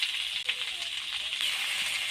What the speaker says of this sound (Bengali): এবার পুঁই পাতাগুলো দিয়ে দেব।